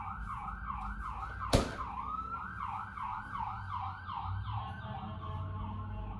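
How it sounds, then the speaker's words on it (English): An ambulance siren wails past in a city street, its rising-and-falling sweep steady and fairly loud over traffic rumble, with one sharp clap-like hit early on. "I was just waiting for the ambulance to go by."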